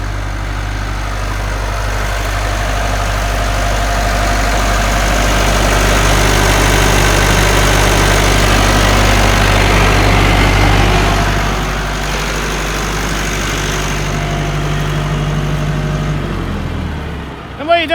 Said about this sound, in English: the tractor's designed to rev like that all day.